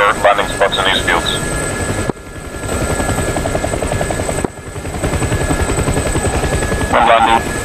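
A helicopter in the combat flight simulator DCS World drones with a loud, steady rotor chop that stays close and continuous, broken by two brief dropouts and partly covered by talk at the beginning and the end.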